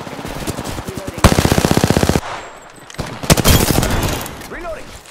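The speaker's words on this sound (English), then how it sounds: "I am taking fire, friends." Two loud, rapid bursts of automatic gunfire ring out in the Apex Legends video game. Each burst lasts about a second and is separated by a short lull filled with quieter shots and game sounds.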